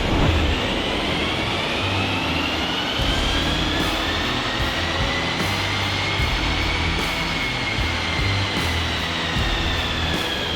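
A BMW X6 xDrive strapped down on a dyno runs steadily under load, with a loud sustained engine drone and rising whine from the rollers, close and continuous.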